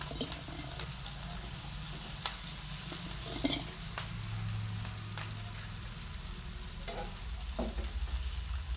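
Vegetables go into a pan of frying garlic, green chili and cumin, giving a soft, steady sizzle with occasional stirring scrapes and a light knock.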